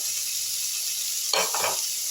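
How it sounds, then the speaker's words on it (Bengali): Ginger, garlic and onion masala fries in a pan for an egg masala curry, a soft continuous sizzle, then a brief louder scraping stir near the end. "এবার আমি আদা রসুন পেঁয়াজটা একটু কষা কষা করে ভেজে নিচ্ছি"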